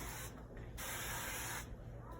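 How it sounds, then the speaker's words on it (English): Cooking spray hisses from a can onto a waffle maker while chaffles are prepared, two close, steady bursts separated by a brief pause. "So, I spray some of this on there."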